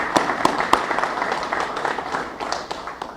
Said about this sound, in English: I'd like to recognize them right now with a round of applause.